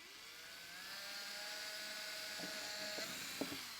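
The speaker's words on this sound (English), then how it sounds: "I'm gonna pre-drill these little holes" Small electric drill boring little pilot holes into a box for a DIY camping power supply, a steady whirring motor tone with slight pitch changes and a few short bursts near the end, close and moderately loud.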